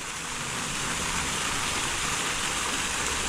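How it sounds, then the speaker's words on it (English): A small waterfall in a secluded back section of a park, fed by a creek, giving a continuous, close, steady rush of falling water with no pauses. "nice little waterfall"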